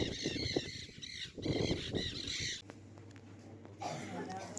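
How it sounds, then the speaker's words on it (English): Parrots squawk in loud, harsh bursts on the Paraguay River, several calls overlapping in the first half before a steady low engine drone and quieter background chatter take over. "I never understood that people are not becoming deaf because of the sounds of parrots."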